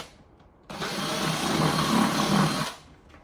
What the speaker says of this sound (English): I'm going to drill holes, just about every 6 inches.